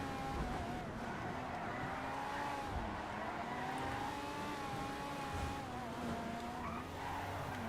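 Car driving and skidding in GTA Online, a sports car with a continuous engine drone and a long wavering tire squeal, moderately loud and steady, with no talk.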